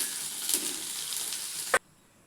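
Paneer frying in hot oil, a steady close sizzle that cuts off abruptly near the end with a brief clatter.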